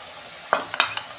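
Spice paste for katla fish curry cooking in oil in a pan, with a soft steady sizzle and a few close stirring scrapes of a spoon against the pan.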